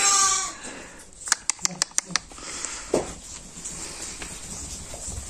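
Young Merino lambs and sheep bleating on a sheep farm, a few short calls amid rustling and several sharp knocks, with people talking nearby.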